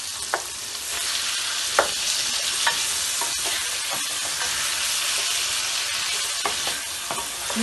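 Tomatoes are tossed into a pan of frying potatoes for aloo palak, producing a continuous hissing sizzle with scattered stirring clicks and scrapes, close and even, without any voices.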